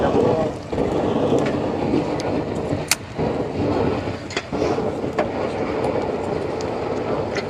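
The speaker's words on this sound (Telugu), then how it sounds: "ఈ శబ్దం ఓన్లీ పైరో గ్యాస్లో వస్తుంది" Pyrolysis gas roars steadily out of a biochar kiln under pressure, a loud, continuous broadband rush with a few sharp pops and crackles on top and no voices.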